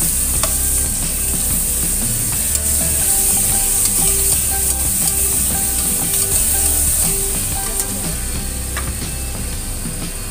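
Minced garlic, ginger and candlenut frying in hot oil, a steady loud sizzle with a spatula scraping and clattering against the pan throughout.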